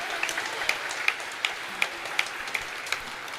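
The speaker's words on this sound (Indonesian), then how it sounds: "kita beri tepuk tangan untuk mereka." Sparse, faint clapping from a Catholic congregation at a homily for the Assumption, a few hands giving distinct, evenly spaced claps rather than a full ovation.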